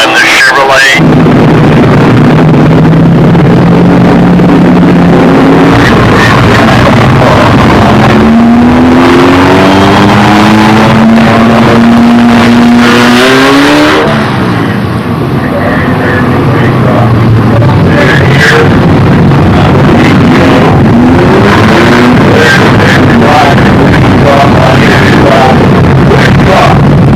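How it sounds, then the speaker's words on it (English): A Chevrolet race truck engine driving, loud and continuous, with repeated rising revs as it climbs through the gears, while a commentator talks over it. "Drivers out of Sarasota, Sean Isley, a non-sponsored vehicle, driving the Chevrolet"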